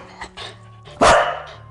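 A dog barks on command as a trick, giving one loud, close bark after a couple of softer sounds.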